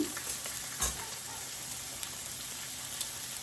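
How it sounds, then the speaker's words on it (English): Butter melts and sizzles in a saute pan, a soft, even frying hiss with a couple of faint clicks and taps over the top. "I'm going to take a little bit of butter and put that in my saute pan"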